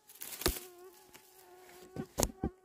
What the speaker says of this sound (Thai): ได้ยินเสียงยุงไหมทุกคน